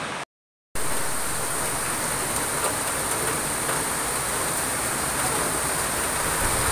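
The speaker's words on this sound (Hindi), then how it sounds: "बारिश रुकी नहीं है।" Steady rain falls without letup on the fourth day of a downpour, a dense, even hiss that fills the whole stretch after a brief cut near the start, with no voices over it.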